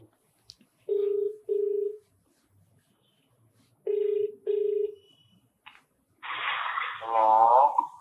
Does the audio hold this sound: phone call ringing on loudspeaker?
yes